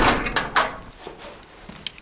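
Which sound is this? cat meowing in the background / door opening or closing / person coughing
door opening or closing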